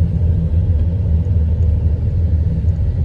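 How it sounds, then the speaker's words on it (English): A car rolls steadily through a residential neighborhood in Southwest Austin, giving a continuous low road rumble and engine drone heard from inside the vehicle, with no talk. "let's just keep on driving back to the end"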